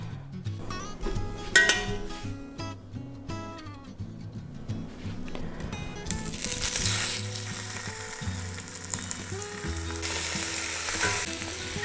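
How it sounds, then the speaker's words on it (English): Pork ribs browning in lard for pork posole give a loud, steady broadband frying sizzle that swells in about halfway through and holds to the end, with occasional pan clinks. "So you'll want to brown these ribs really well."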